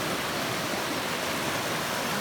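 A Colorado creek rushes in a steady, dense wash of flowing water, close and loud throughout, with no voices.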